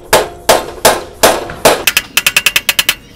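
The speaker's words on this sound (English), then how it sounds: "Now I'll take a flathead screwdriver and kind of hammer this around." A flathead screwdriver is hammered around an electrical fitting during a DIY electrical service upgrade, giving five loud, evenly spaced metallic strikes. A quicker run of about ten sharper taps follows, close and ringing.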